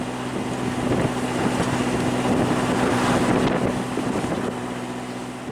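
A sailboat heading back to the Nassau Yacht Club near Paradise Island, with steady rushing wind and water noise buffeting the microphone throughout and no clear voices.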